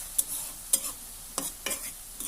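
A spatula scrapes and stirs red spinach frying with garlic and chili in a pan, making a few sharp, distinct strokes over a quiet sizzle.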